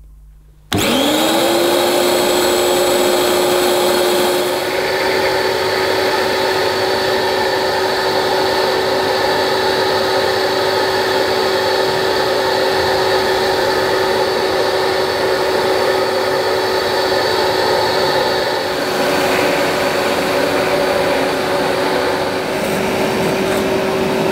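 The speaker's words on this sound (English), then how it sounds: "I'm going to go around the edges of the carpet first, and then we'll take the hose off and I'll show you the Rug Doctor in action" A Rug Doctor Mighty Pro X3 carpet washer runs along carpet edges, starting abruptly and holding a loud, steady motor whine with a constant tonal hum and rushing suction throughout, close and uninterrupted, with no talk.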